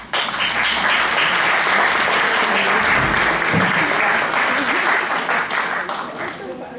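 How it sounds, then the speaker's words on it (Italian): An audience at a lecture presentation claps together in a dense, steady burst of applause that holds strong for several seconds before easing slightly toward the end. "Non dovete fare altro che battere le mani"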